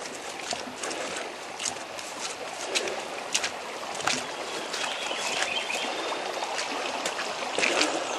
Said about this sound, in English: Creek area is really flowing.